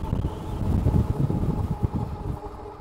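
Wind buffets a microphone with low, rumbling gusts, steady and close, with no other clear sounds.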